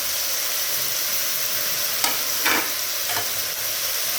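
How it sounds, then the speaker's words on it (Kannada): Tomato, peas and soybeans fry in a pan with a steady, close sizzle, broken by a few sharp stirring scrapes near the middle. No voices are heard. "ಇದನ್ನೆಲ್ಲ ಸೇರಿ ಸ್ವಲ್ಪ ಹೊತ್ತು ಫ್ರೈ ಮಾಡ್ಕೊಳ್ಳೋಣ"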